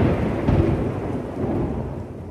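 Super typhoon Mawar's wind and rain batter a building, a loud, continuous broadband roar with heavy rumbling gusts swelling and easing over a couple of seconds, no voices.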